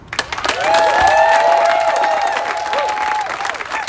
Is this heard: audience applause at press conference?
yes